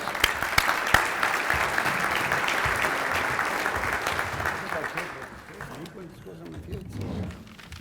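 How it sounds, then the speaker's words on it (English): Audience applause welcoming a senator to the podium at a Chamber of Commerce legislative luncheon, a sustained round of clapping that gradually fades out near the end. "please give me a round of applause"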